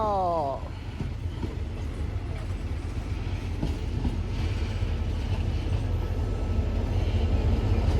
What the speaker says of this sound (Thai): ขบวน43ออก กรุงเทพอภิวัตรปลายทางสุราษฎร์ธานี ไปเลยครับ